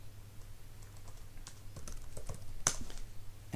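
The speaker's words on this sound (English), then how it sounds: "And now when we type in the password" A password is tapped out on a computer keyboard in a quiet room, a run of soft, fairly even keystrokes heard up close, with one sharper click near the end.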